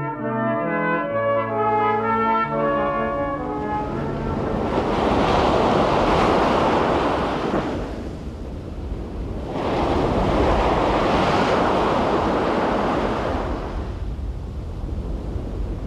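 Sea waves wash onto the shore at Sant Pol, a loud, close, continuous surf with two big swells rising and falling, plus wind rumble at the microphone; music fades out at the start.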